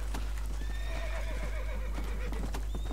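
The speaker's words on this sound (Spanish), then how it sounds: "¡Sube, caballo!" A horse in the video game Red Dead Redemption whinnies with a long, wavering neigh while hooves clip-clop steadily underneath, set over a constant low hum.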